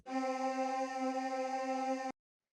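A dry choir sample in old-school house style, heard alone as one steady sustained tone with rich harmonics, held for about two seconds before stopping sharply.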